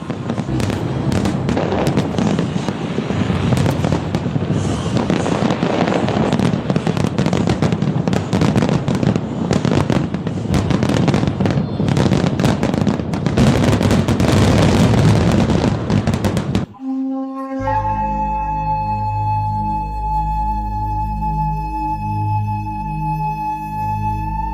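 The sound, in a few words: fireworks exploding over Hong Kong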